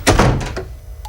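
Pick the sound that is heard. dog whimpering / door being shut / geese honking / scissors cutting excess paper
door being shut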